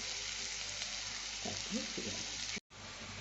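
Onions frying in a pan for a papaya dish, a steady broadband sizzle with occasional stirring scrapes, close and continuous, with a brief dropout near the end.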